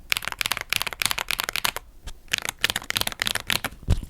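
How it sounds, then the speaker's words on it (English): Akko creamy MX-style key switches on a custom fightpad clack in rapid, dense bursts of crisp clicks, close and fairly loud, with a short pause midway and no talking. "I'm actually going to be using MX style key switches for this board, solely because I have leftover Akko creamy switches and they just sound so nice and docky."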